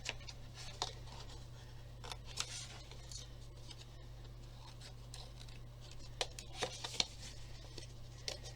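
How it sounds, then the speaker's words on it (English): Scissors make a handful of sharp, faint snips through paper ends, spaced irregularly against a quiet room hum. "So I'm just going to snip those ends off."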